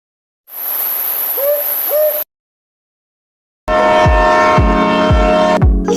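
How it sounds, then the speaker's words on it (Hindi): An owl gives two soft hoots over a steady rushing hiss. After a short silence comes a louder section of rhythmic low pulses with sustained tones. "अलिफ से उल्लू।"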